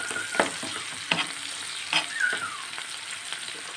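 Chicken with turmeric and chillies frying in a pan, stirred with a few scraping clacks over a steady close sizzle, no voices.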